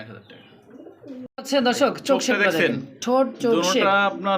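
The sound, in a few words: high flyer pigeons cooing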